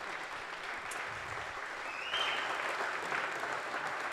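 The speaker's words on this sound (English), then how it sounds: "And one last more round of applause for all of our amazing sponsors." An awards-night crowd at the WHAMM! Awards in the Little Miami Brewing Event Center claps for the event sponsors. The applause is steady and fairly soft, swelling slightly near the end.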